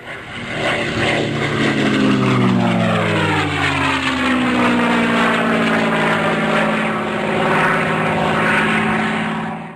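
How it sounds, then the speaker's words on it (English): A Spitfire with its Merlin engine passes overhead, the propeller drone swelling loud, then sliding down in pitch as it sweeps by and slowly fades away. "Propeller-driven aircraft have their own distinctive noises, and the Merlin was something very special"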